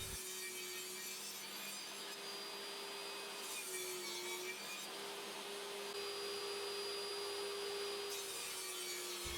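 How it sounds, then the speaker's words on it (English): A table saw cuts MDF panels with the blade tilted to a 45-degree mitre, producing a steady, loud whirring roar with a sustained hum and hissing cut noise that persists throughout, with no voices. "I tilted my table saw blade to 45 degrees and used my panel sled on the table saw to cut one end of"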